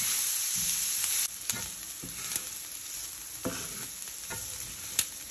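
Onions frying in bacon fat in a pan for meat buns, a steady crackling sizzle throughout, with a few sharper clicks and taps, close and moderately loud, no talking.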